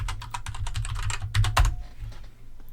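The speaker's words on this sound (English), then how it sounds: "type in my password" Rapid, uneven keystrokes on a computer keyboard as a password is entered, a close run of sharp clicks with a couple of louder key strikes near the end, no voices.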